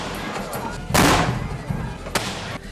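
Cannon fire during a siege of a castle on a steep peak: two heavy booming blasts, the first long and rumbling, the second sharper, heard over continuous narration.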